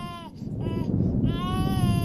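Small child crying in a high, wavering wail, several drawn-out cries in close succession, loud and near, with no talk over it.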